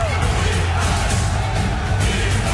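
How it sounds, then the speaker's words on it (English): Stadium crowd at a 2008 Pittsburgh Steelers vs. Dallas Cowboys football game erupting after a game-tying touchdown, a loud, dense, unbroken roar of cheers and yells filling the whole moment. "This crowd in a frenzy."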